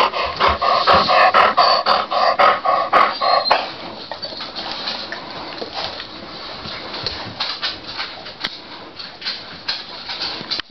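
A 15-year-old Labrador and a German Shepherd play together close by, with rapid barking early on, then panting, scuffling and paw sounds.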